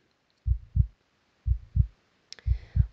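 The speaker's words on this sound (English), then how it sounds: "Let's lightly tap together in a slow heartbeat rhythm." Soft, low thumps in paired beats of a slow heartbeat rhythm, from people lightly tapping their chests during a church worship service. Three evenly spaced pairs sound against near silence.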